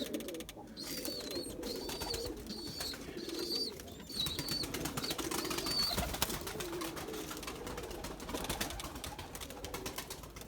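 A blue female pigeon coos low and repeatedly in a loft, with brighter chirping calls from other birds and a constant busy background hum; no speech.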